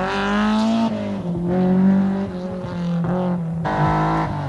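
Rally cars at the 1988 Rallye du Mont-Blanc race past, Auriol with a BMW in pursuit, engines revving hard through gear changes in loud, close bursts.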